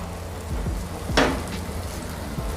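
Chopped carrots, peas and finely cut capsicum tipped into a hot pan for a vegetable tawa pav, giving a soft steady sizzle with a brief sharp hiss and a few light clinks as they go in.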